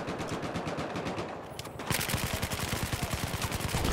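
Gunfire in the video game Battlefield 4: rapid automatic bursts, with a brief lull and then a denser, louder stream of rattling shots that carries on to the end.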